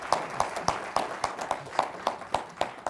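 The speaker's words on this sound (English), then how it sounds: "let's give David another round of applause for his skill" An audience at a history lecture tour event claps in a steady rhythmic beat, a crowd of hands striking together roughly three times per second, moderately loud and even.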